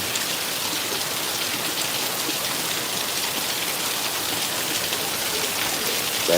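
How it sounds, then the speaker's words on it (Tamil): Heavy rain pours down steadily, a dense continuous hiss of drops striking surfaces at constant loudness, with no voices. "விடிய தக்கம் பெய்யுது மழை"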